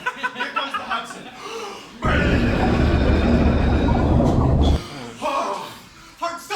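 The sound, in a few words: subway train running through tunnel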